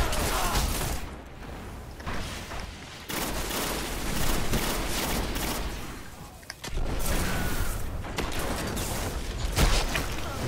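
Gunfire crackles steadily through a Destiny Iron Banner multiplayer match, dense bursts of shots and thuds filling the whole stretch, with one sniper rifle report among them.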